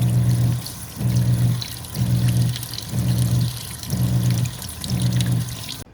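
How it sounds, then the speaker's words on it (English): Water gushing from the shower head of a self-contained portable wash station with hot and cold running water, coming in rhythmic pulsing bursts about once per second, with a low pump hum beneath each surge. "Now checking to see if the shower feature works."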